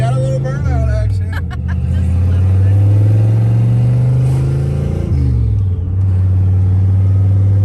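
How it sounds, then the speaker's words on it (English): A turbocharged Foxbody Mustang with a stage 3 clutch holds a loud, steady, droning rev during a burnout, its pitch climbing slowly and then dropping, with faint voices in the background. "Oh yeah, we got a little burnout action."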